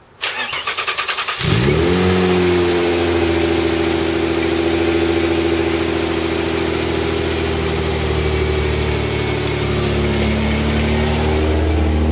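A Mazda MX-3 with a 1.8 V6 K8 engine and an odd noise cranks for about a second, catches, then settles into a loud, steady idle with a slight rev, close up and with no talk.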